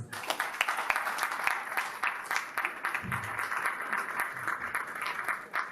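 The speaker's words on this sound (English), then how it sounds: "So a round of applause for ADVEN X." Audience applause at a televised marketing event honouring ADVEN X, the advertising professionals' platform: a steady wash of fairly distant clapping from a mid-sized crowd, moderately loud and sustained throughout with no voices over it.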